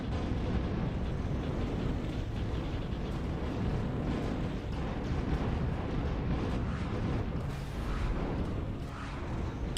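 Long-range artillery from the Zero-K strategy game rumbles as a dense, continuous barrage of low booms and crackling blasts, loud and steady for the whole stretch with no talk over it.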